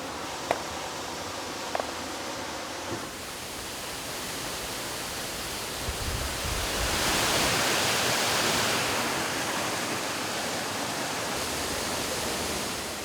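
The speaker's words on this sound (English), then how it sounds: "Once you get to the top of the waterfall," A waterfall roars steadily in a hidden gorge in Oregon, a dense broadband rush of falling water that swells louder partway through, with a few faint clicks early on and no talking.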